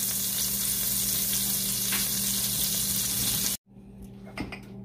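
Butter sizzles steadily in a hot pan while cauliflower fried rice is sautéed, a loud continuous frying hiss that cuts off abruptly near the end, followed by faint clinks.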